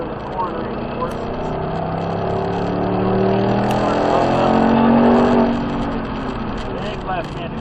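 A Ford Mustang driven hard around a track corner, the engine note rising and swelling in pitch through the turn before settling, heard from inside the car.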